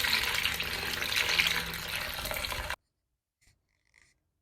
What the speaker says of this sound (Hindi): मैंने एक दफ़ा पानी से निकाल लिया है पालक को